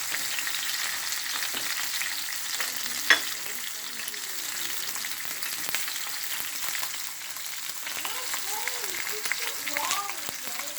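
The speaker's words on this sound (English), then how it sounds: "I'm just gonna fry these" Ackee and saltfish with sweet pepper fry in a pan, a steady crackling sizzle with occasional utensil taps and stirring, while a voice speaks intermittently over it.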